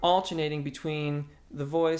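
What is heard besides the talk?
No everyday noise stands out behind the speech.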